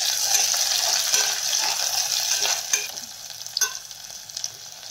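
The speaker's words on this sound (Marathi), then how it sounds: "ही छान परतून घेऊया।" Green chili pieces and cowpeas sautéing in a hot pan for masala khichadi, a steady close sizzle with scattered stirring scrapes and taps, no talk.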